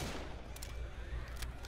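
Machine gun fire in the co-op zombie shooter Left 4 Dead 2, a faint, rapid burst of distant gunfire rattling briefly under a low background rumble.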